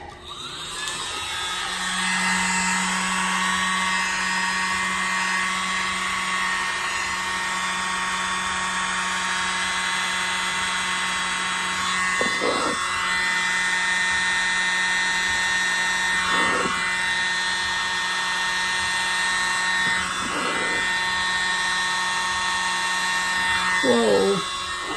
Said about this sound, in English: Here's my mini blower.